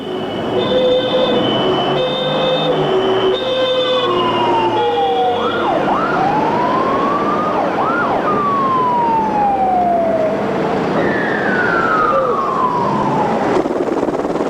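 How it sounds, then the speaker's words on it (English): Emergency sirens wail and sweep up and down in pitch over a steady rumbling background after the Newcastle earthquake, continuous and fairly loud throughout. "the hushed silence was broken by the wail of sirens"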